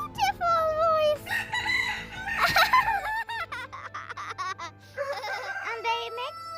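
A big and a small chicken take turns crowing in long, wavering calls, loud and close, with a pause and then another crow, while a voice speaks softly nearby.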